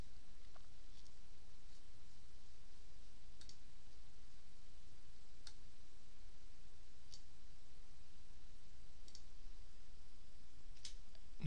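A computer mouse clicks faintly about every two seconds, sharp isolated ticks over a quiet hiss.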